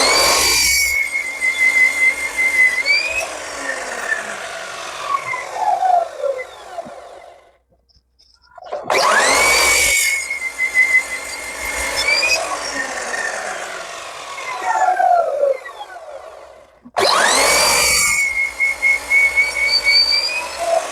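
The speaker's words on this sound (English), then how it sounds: "I've just set a stop block on the chop saw at about 15 millimeters, and now I'm going to cut a load of slices out of this block" A chop saw with a stop block set at about 15 millimetres slices through a plywood block, making three loud, whining cuts that each taper off as the blade spins down between cuts.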